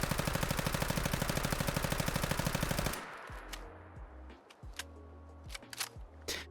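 An AK rifle with vanilla Nuka World sounds in Fallout 4 fires a rapid, sustained automatic burst for about three seconds, then falls into lighter clicking and clattering handling noises, loud and close with no talk.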